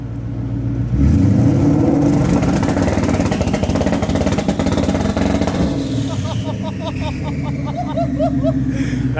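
A 1,000 hp Ford Mustang on two-step launch control, its engine revving hard and holding a loud, sustained roar close by, with a voice calling out near the end.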